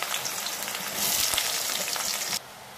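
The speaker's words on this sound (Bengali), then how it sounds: "কড়াইতে তেল গরম করে তাতে পেঁয়াজগুলো দিয়ে দিতে হবে।" Onions frying in hot oil in a kadai, the first step of a lote fish jhuro: a dense, steady, close sizzle swells briefly, then drops sharply to a quieter crackle near the end.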